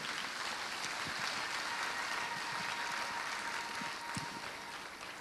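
A church congregation claps and cheers to acclaim the Lord, a dense, steady wash of applause filling the room from start to finish without a break.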